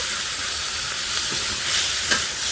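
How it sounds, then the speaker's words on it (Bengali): Potato and raw banana sautéed with spices in a pan give a steady, close sizzle of frying, with a few soft stirring scrapes rising briefly above the constant hiss. "মশলাটা দিয়ে আলু কলাটা ভালো করে একটু কষিয়ে নেবে"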